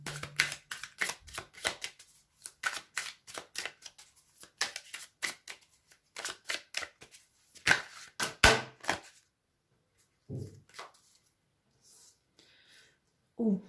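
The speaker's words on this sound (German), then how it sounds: "Ich fange jetzt einfach mal an, die Karten für dich zu mischen." Tarot cards being shuffled by hand in repeated bursts of crisp riffling and rustling, close and fairly quiet, with short pauses between passes and a few soft handling sounds toward the end.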